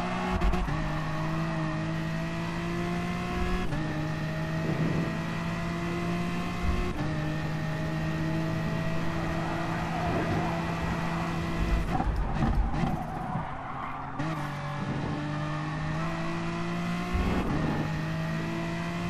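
A BMW M4 race car in Gran Turismo Sport racing on the Dragon Trail coastal track, its engine droning steadily and loudly at high revs with brief shifts and dips in pitch, alone without speech.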